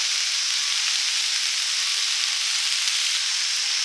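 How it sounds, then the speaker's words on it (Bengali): Water spinach (kalmi shak) fries in a pan with ghee, giving a soft, even hiss of sizzling that runs steadily without breaks or voices. "এরকম কলমিশাকের ভাজাটা হয়ে গেছে এবারে আমি ঘি দিয়ে নামিয়ে নেব"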